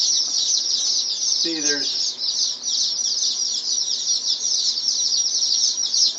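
A brooder packed with dozens of Old English Bantam chicks gives a constant dense chorus of high-pitched peeping, loud and close, with someone briefly talking over it partway through.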